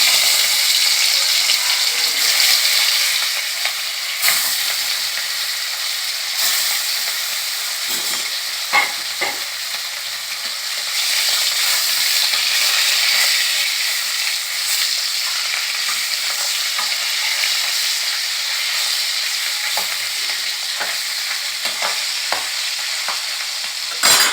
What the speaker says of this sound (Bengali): তেলটা ভালো মতো গরম হয়ে গেছে এবার আমি যে মাছগুলো আপনাদের দেখিয়েছিলাম সেই মাছগুলো আমি এর মধ্যে